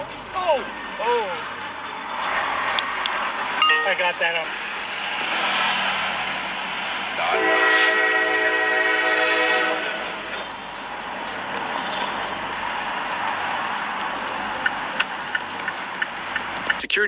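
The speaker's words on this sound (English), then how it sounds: "Security camera captured a crash involving a garbage truck and a train in Mesa." A train's horn blares in a long, steady tone as the train crashes into a garbage truck at a crossing in Mesa, with surrounding street noise and people talking over it.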